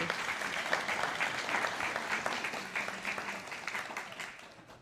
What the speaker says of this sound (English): let's give a big round of applause for Bailey and Mulberry.